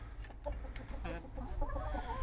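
A rooster and hens cluck inside a henhouse, with a busy overlapping mix of soft calls over a low rumble, close by and moderately loud.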